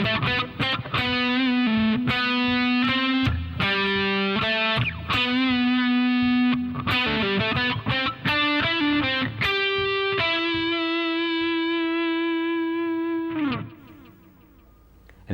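Distorted electric guitar runs through a fast melodic phrase with pull-offs, notes tumbling quickly before settling into a long sustained note that cuts off near the end; loud, alone, with no talking.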